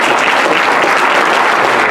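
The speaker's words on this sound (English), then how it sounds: "Let's give these beautiful queens a round of applause" A crowd claps steadily and loudly, a dense wash of applause that continues without a break.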